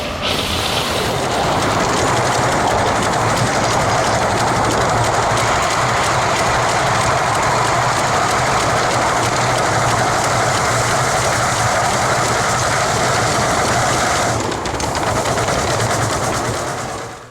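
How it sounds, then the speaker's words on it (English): A coal-fired Hudson steam locomotive runs under steam, a loud continuous roar of rolling wheels and rushing exhaust holding steady for most of the stretch before easing slightly near the end. "How about a coal-fired Hudson under steam?"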